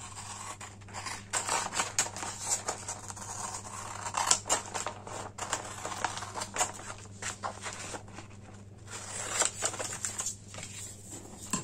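Paper or card being snipped with scissors for a Cricut family frame craft, a light crisp crunching of cuts repeated irregularly up close, with handling rustles between strokes.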